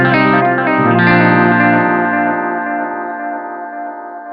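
Electric guitar through a digital delay, a Line 6 Helix or Strymon Timeline, lets a strummed chord ring out as echoing repeats that smear together and fade slowly over several seconds, loud and alone.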